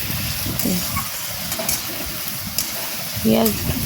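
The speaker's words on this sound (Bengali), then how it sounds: "পেঁয়াজ কিন্তু খুব বেশি হাই ফ্লেমে ভাজবে না" Chopped onions fry in a pan for a mutton curry, a continuous close sizzle with a few stirring scrapes, while a voice talks briefly over it.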